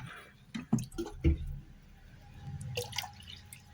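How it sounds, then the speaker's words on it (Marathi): Water being poured into a bowl of green pani puri spice mix, with a few soft drips and splashes early on, then a low, steady liquid gurgle near the microphone. "अजून पाणी टाकते याच्यात"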